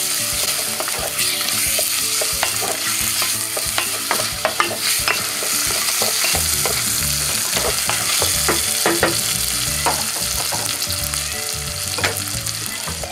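Pieces marinated in garam masala and salt stir-frying in a pan for an Indian curry, with steady loud sizzling and repeated scraping stirs of a utensil throughout.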